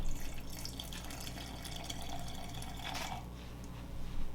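Water poured into a container to reactivate a sourdough starter, a quiet steady trickle running for about four seconds with a faint brighter splash near the end.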